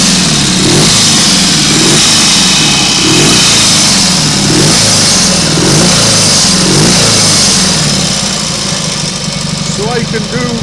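A Norton Nomad 500 motorcycle engine runs and revs repeatedly in rhythmic surges, loud and close, settling toward a steadier note near the end.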